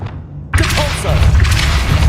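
A Depulso spell cast in Hogwarts Legacy: a sudden forceful burst after a brief lull, then a sustained loud magical whoosh and rumble with short rising tonal swirls.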